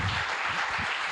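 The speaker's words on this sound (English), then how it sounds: "Yeah, big round of applause for Lex." An audience at a political candidate meet-and-greet gives a round of applause, brisk, fairly close clapping from a room of people, steady throughout the short burst.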